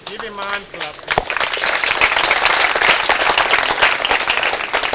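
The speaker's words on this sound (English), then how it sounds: "Give him a hand clap, please." Audience at a school alumni career day breaks into steady hand clapping after a short stretch of speech, the applause dense and sustained to the end.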